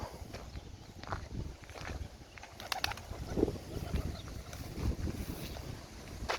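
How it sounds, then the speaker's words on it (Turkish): Strong wind gusts on a rooftop buffet the microphone in a steady roar, with scattered thumps and rustles. "ama çok rüzgar var. Bu rüzgarda çatıda oturamayız."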